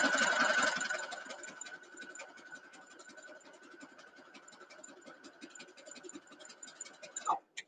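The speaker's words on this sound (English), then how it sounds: "I wish I could think of something that could make sewing machines quiet" A sewing machine stitches a nine-patch quilt block, a rapid, steady mechanical needle rattle with a faint whine, running continuously and fairly close before stopping abruptly at the end.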